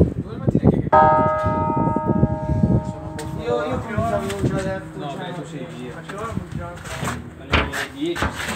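Church bells of Rosate, in the province of Milan, ring a festive allegrezze peal: clear, overlapping tolls with ringing tones, carrying on steadily while people talk nearby.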